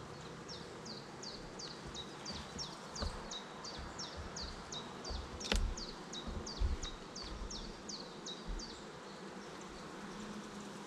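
Honeybees hum around a hive frame during an inspection, a faint steady buzz with a rapid run of high chirps and a few soft knocks and rustles.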